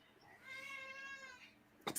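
Indoors, a cat lets out a single long, faint meow, then a brief sharp noise cuts in right after.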